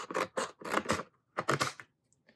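Close scissors cutting paper in short crisp bursts, several quick snips then a pause and another run of cuts, ending in near silence.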